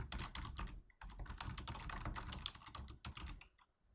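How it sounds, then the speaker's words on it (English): Rapid typing on a computer keyboard, a close, continuous patter of key clicks with brief pauses, heard alone without speech. "So for the fifth book, I'm going to type the author information"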